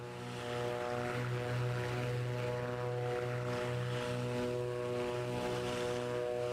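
Twin piston engines of a Beechcraft Baron B58 drone steadily in a flight simulator game, a continuous, loud, even propeller hum with a slight throbbing beat and no talking.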